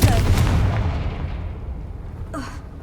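Confringo fire spell blast in Hogwarts Legacy, a loud booming burst at the start that decays into a long rumbling tail, with a short sharp crackle near the end.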